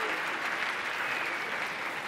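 Steady, close applause from a live audience at a science slam show, even and sustained throughout with no break.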